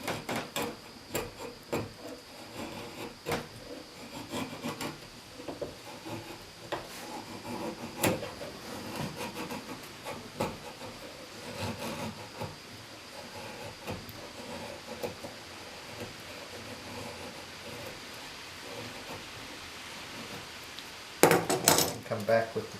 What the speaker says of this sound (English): can take the draw knife.